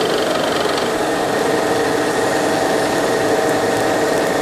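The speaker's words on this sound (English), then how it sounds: "I'm gonna turn that spindle speed on and I'm gonna crank it up" A milling machine spindle runs at high speed, giving a loud, steady, dense mechanical whir with constant vibration and no breaks or voices.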